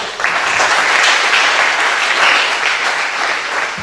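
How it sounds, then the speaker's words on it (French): An audience in a full seminar hall applauds, a loud, close, sustained wash of clapping from many hands that swells and holds for several seconds with no talking. "Vous pouvez vous applaudir."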